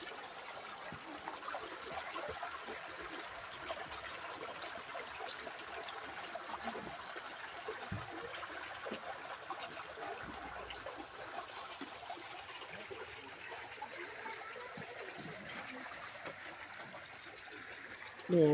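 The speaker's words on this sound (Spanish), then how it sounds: "Miren de dónde sale el agua." Spring water flowing into the Bacubirito river, a soft continuous trickle and burble heard from close by, faint and steady, with a brief louder bump at the very end.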